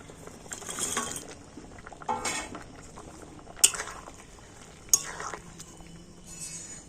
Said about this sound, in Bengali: আর এবার আমি ভেজে রাখা বড়াগুলো দিয়ে দেবো